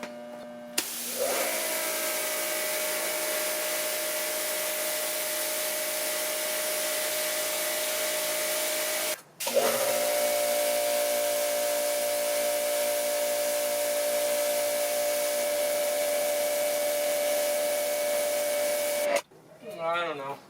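A Ryobi 2300 pressure washer driving a sewer jetter hose sprays in a loud, steady hissing roar with a constant motor whine, cutting out briefly twice before resuming.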